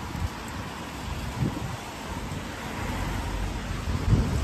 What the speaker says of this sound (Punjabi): ਮੀਂਹ ਆ ਗਿਆ